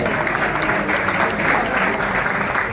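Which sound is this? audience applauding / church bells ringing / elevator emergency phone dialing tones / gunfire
audience applauding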